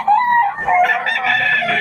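A rooster crows loudly and close by, one long drawn-out call with a rising, wavering pitch.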